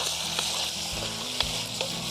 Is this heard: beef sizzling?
yes